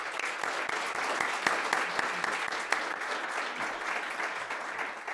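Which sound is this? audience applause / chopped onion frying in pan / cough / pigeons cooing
audience applause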